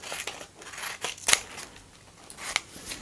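Scissors trim the leftover edge of paper for a paper rose, with a few crisp, close snips spaced irregularly over a soft rustling background.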